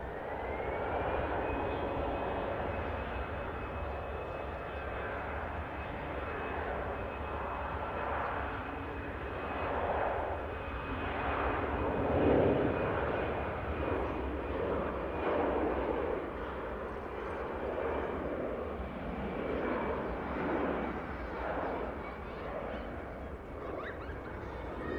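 At Manchester Airport an EasyJet jet airliner's engines spool up, a distant sustained rumbling whine with a thin steady high tone, the roar gently rising and falling over a long stretch.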